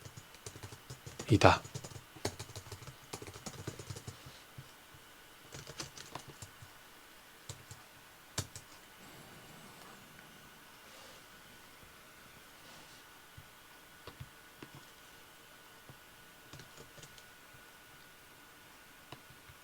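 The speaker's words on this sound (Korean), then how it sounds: "에제키엘서를 모두 타이핑하였습니다." Typing on a computer keyboard in a quiet room, with a short burst of louder clattering keystrokes near the start and then softer, sparse taps that continue faintly over a low background hiss.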